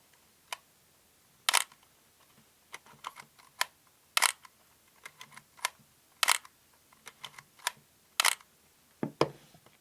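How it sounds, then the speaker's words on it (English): An SLR film camera's shutter fires repeatedly, sharp mechanical clacks at uneven intervals with quiet film-advance clicks between them, close and alone. "And then to hear the sound of the shutter,"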